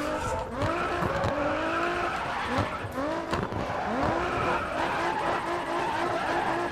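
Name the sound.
car drifting with tire squeal in Grid Autosport video game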